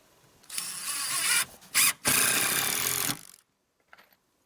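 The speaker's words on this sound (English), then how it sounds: "all you gotta do is pop in some screws." Power drill driving screws into wooden boards on a homestead firewood-hauling trailer, with two close, loud bursts of whirring separated by a short pause, then a faint click near the end.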